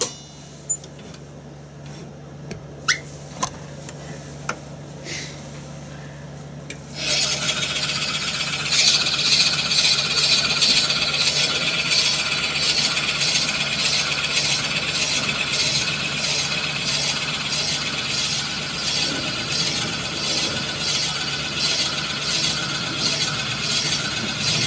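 Forstner bit boring into wood for a screwdriver handle: a few faint clicks and taps, then a loud, continuous grinding drone with a rhythmic rasping pulse that keeps going to the end.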